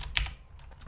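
A few quick keystrokes as code is typed on a computer keyboard, a sharp close click followed by lighter taps in under a second.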